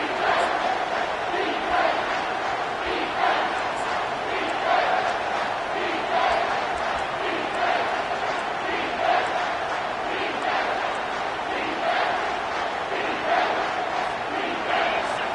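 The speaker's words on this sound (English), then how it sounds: "Decibels rising as the crowd gets behind this defense on 3rd down." Football stadium crowd cheering and roaring behind the defense on a third down, a dense, sustained wall of voices that swells in waves from a distance, with chanting pulses and no clear talk on top.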